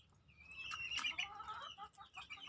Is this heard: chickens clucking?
yes